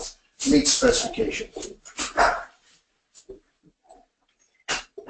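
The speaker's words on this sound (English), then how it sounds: "sorry for the little dogs." Little dogs bark and whimper, with a few sharp yips breaking in during and after someone speaking, the barks brief and scattered against an otherwise quiet background.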